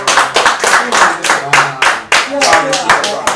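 A small group of people clap close by in a quick, steady rhythm during a relaxed hip hop interview, with voices talking over the claps.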